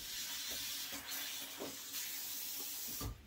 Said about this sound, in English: then I will add water to it